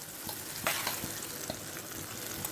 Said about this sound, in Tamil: அது பொரியட்டும் அப்படியே ஒரு ஸ்பூன் உளுத்தம்பருப்பு